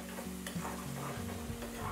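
Green chilli, garlic and cumin thecha frying in hot oil for a tempering, giving a steady close sizzle with faint stirring scrapes throughout, no voices.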